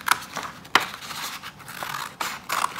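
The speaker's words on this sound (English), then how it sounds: "take your scissors and cut it out" Scissors cut paper along a pencil line in a few distinct snips and crisp rasping strokes, close up and fairly loud, with short pauses between cuts.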